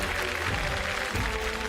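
Studio audience applauding for a Marathi singer on a televised music competition stage, a steady dense wash of clapping throughout the short burst with no voices on top.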